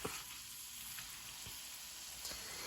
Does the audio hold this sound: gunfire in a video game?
no